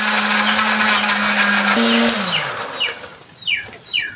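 A blender grinding spice paste with a little water whirs loudly at a steady pitch, briefly shifts, then spins down to a stop, followed by a few faint chirping bird calls.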